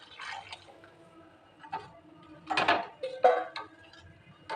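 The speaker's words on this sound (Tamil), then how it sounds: "அந்த பாவு தண்ணியை தேங்காயில் அப்படி ஊற்றிடும்." Jaggery water is poured onto coconut in a pan while Thiruvathirai kali is being made. Quiet splashy pours and drips come in short bursts, with a few light clinks of the pan.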